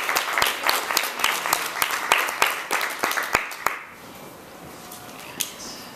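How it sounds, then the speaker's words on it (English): An audience applauds panelists at the close of a panel discussion, with a dense burst of many hands clapping that thins out and fades to a few scattered claps after a few seconds. "let's give our panelists a round of applause"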